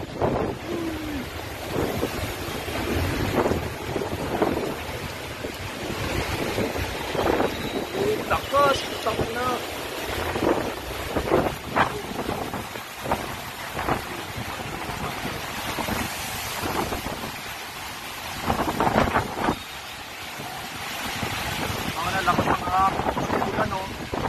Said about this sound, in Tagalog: Lakas ng ulan, saka hangin.